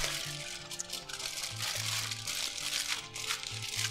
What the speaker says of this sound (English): So I just have to close up the foil.